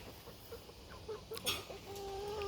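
An Andalusian hen on a homestead clucks in short, scattered calls, fairly close, with a few sharper bird notes and a rising tone near the end and no talking.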